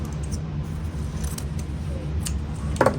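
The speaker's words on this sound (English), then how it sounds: "Let's cut this off." Scissors snip through craft material for a handmade gnome Christmas decoration, with a few soft, close cuts and a sharper snip near the end over a steady low background hum.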